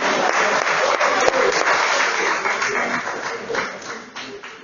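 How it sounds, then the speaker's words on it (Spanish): A church congregation claps for its older members of the 1950s generation, a dense steady round of applause filling the room for several seconds and thinning slightly toward the end. "Démosle un aplauso a ellos que son de esa generación"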